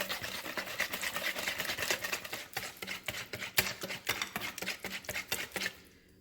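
Waffle batter with cinnamon and Greek yogurt is stirred briskly in a bowl, giving a quick, steady clatter of utensil strokes up close for about six seconds before stopping.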